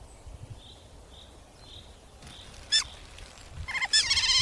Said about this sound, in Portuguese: apenas os sons dos pássaros e o bater suave da água podem ser ouvidos